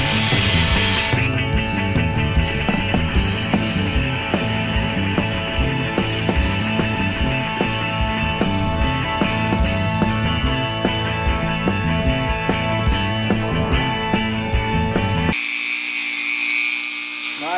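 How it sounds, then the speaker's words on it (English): Reinforced abrasive cutoff wheel grinding through cast iron, a continuous loud high-pitched whine and scream of the tool held close, cutting off abruptly near the end. "I've got one of those reinforced cutoff wheels in here, and I just went around, and I'm almost through"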